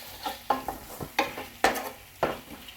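Onion-tomato paste frying in a cooking pot with ginger-garlic paste for a spicy paya curry, giving a steady sizzle broken by five or six sharp scraping stir strokes, close and moderately loud, with no talking.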